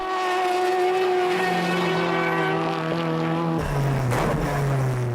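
Tsuchiya's tuned Mazda FD racing a lap, its engine loud and revving in rising harmonic tones, then a sudden downshift and rougher, lower roar under braking.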